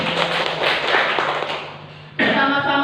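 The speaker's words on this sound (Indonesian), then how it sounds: "Tepuk tangan dulu." A crowd claps steadily at a school vision presentation for SDN 2 Purbalingga, a dense, even patter that slowly thins out before a different tonal sound cuts in near the end.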